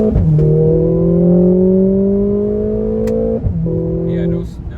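Inside a 2021 Mercedes-Benz GLA 45 AMG with a four-cylinder engine, a loud, close engine drone climbs steadily in pitch, briefly dips at a quick gear change, then pulls up again.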